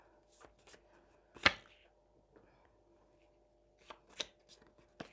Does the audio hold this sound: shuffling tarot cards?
yes